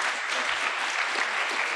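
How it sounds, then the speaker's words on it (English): An audience at a talk on the militarized police state bursts into applause, an even, continuous patter of many hands clapping that stays steady and moderately loud throughout, with no speech. "I'll let you all applaud that"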